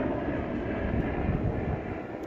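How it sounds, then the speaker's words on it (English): A helicopter passes overhead at a quiet RV parking spot, a steady low rotor and engine drone holding fairly even throughout with no talking. "Got a helicopter going over."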